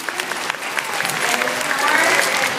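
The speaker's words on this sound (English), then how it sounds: "So I want to again give everybody an applause for being here," An audience gives a lively round of applause for special guests, with dense overlapping claps that build steadily and stay loud throughout.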